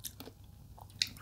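Crunchy papaya salad bitten and chewed, served with giant prawns: a few short crisp crunches close to the mic over a quiet background, with no talking.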